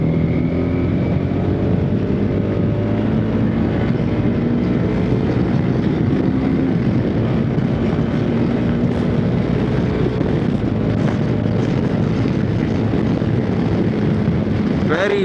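TVS Apache RTX 300 motorcycle rolling on the throttle in fourth gear, a steady loud engine drone mixed with heavy wind rush throughout, recorded from the moving bike.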